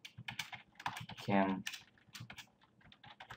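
Rapid keyboard typing clatters in a short burst between stretches of someone talking.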